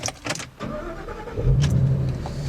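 A 2014 Ford Mustang GT California Special V8 runs steadily, a low engine hum that swells louder midway as it pulls away, with a few brief higher noises early on and no talking.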